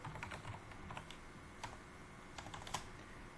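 Router commands typed on a computer keyboard, quiet rapid key clicks in uneven bursts with a few sharper taps, close and alone with no voices.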